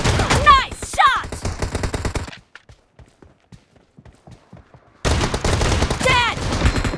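Gunfire from a shotgun in the mobile battle-royale game PUBG Mobile, loud bursts of shots with a lull in the middle before firing resumes, with game voice announcements layered over the action.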